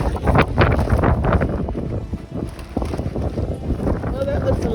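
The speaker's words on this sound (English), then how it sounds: "The wind in Idaho, it can be awful as it is right now." Strong winter wind in Idaho roars and buffets outdoors around a damaged greenhouse, rough and gusty against the microphone, while a person talks over it.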